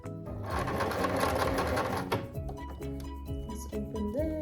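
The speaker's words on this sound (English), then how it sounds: "And then I'm gonna do a reverse stitch again." A domestic sewing machine runs a reverse stitch on drawstring ponytail fabric, first in a fast, steady mechanical whir. It then slows into distinct, separate needle thunks and clicks. The machine is close and clear, with no talk.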